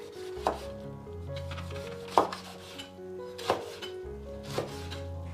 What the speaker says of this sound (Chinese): 咸菜我们刚刚浸泡了一会儿，就没那么咸，然后洗干净，来给它切成小段